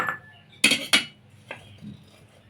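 A spoon scrapes and clinks against a bowl as tamarind chutney is transferred into it, two sharp metallic knocks followed by a softer tap and light scraping, close and quiet, with no talking.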